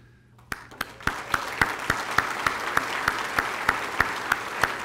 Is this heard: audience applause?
yes